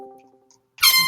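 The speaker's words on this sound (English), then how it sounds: "Stop with the fucking air horns." An air horn sound effect blares abruptly after a moment of near silence, one loud, harsh, sustained blast.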